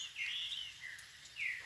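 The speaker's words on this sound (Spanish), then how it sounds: "Y vea este pajarito ya madrugador" Around five in the morning, as dawn breaks, a small early bird gives three high, thin chirps close by against a quiet background.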